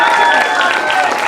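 An audience claps for a guest at a talk, a dense, steady wash of applause filling the whole moment at close range.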